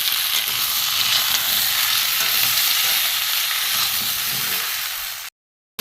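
Ground spices (salt, chilli powder, grated ginger, cumin, coriander and turmeric) fry in a pan for a vegetarian dish with a loud, dense, even sizzle that stops abruptly after about five seconds.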